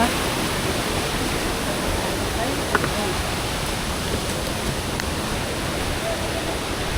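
A waterfall near Honnavara gives a steady, loud broadband roar of rushing water that holds unchanged throughout.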